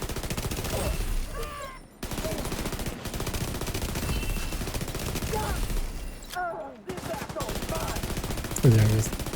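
Blind-fired gunfire in a video game, steady rapid automatic shots rattling continuously at close range, with brief gaps and a few sharper pings mixed in.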